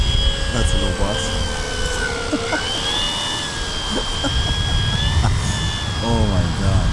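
A handbuilt ultralight RC Pilatus PC6 model airplane whines overhead with a steady high engine tone shifting in pitch as it flies, while people talk and exclaim nearby.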